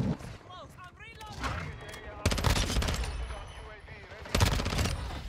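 The Expedite 12 shotgun fires in Modern Warfare II, loud repeated blasts in two distinct bursts over game background noise, while someone talks between shots.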